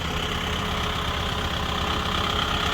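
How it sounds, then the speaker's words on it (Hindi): A 50 hp tractor engine runs at 2000 rpm with a loud, steady, throbbing drone and no break. "2000 आरपीएम करा लिए। 50 एचपी का ट्रैक्टर है"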